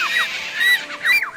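A person's voice imitates a bird call: a series of short, rising, whistle-like chirps repeated close to the listener over about a second and a half.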